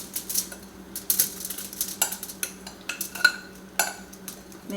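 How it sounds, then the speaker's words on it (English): Herbed dill potatoes with butter are spread onto foil with a utensil, making irregular scraping taps, clinks and soft crinkles at close range. "We're going to get those potatoes onto it nice and spread out."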